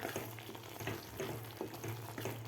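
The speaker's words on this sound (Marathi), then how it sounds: "गरम मसाला घातल्यानंतर आपल्याला हे मिक्स करून घ्यायचं आहे" Guar bean bhaji with garam masala gets stirred in a pan: a soft, steady sizzle with repeated scraping strokes at an even rhythm, close and fairly quiet, with no one talking.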